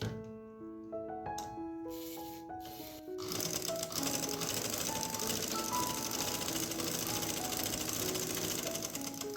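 Sewing machine stitching pintucks on trouser fabric, beginning with a few tonal chime-like notes before settling into a steady, fast mechanical whirring run that continues close and even to the end.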